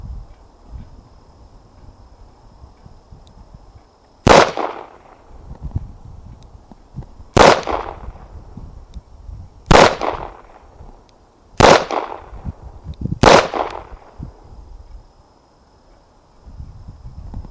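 Smith & Wesson 442 revolver fired at small targets outdoors: five sharp, loud gunshots spaced a few seconds apart, each with a short ringing tail, over a quiet background.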